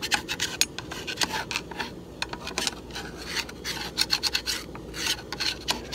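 Polish being rubbed by hand onto the chrome trim ring of a Chevy rally wheel, a close, steady rasping scrub with repeated strokes and no voices.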